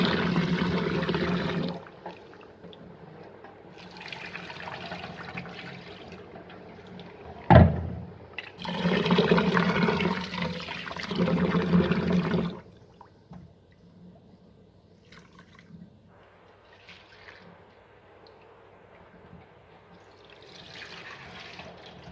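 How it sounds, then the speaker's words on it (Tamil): Soaked rice and lentils for adai dosa rinsed under running water in a kitchen, bursts of splashing and gushing flow that start and stop several times, with a sharp clatter partway through, then quieter dripping and trickling near the end. "இப்போ நம்ம இந்த தண்ணியை நல்லா அலசி வெளியே விட்டுடலாம்"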